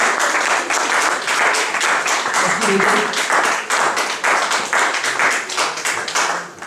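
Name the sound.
church congregation applauding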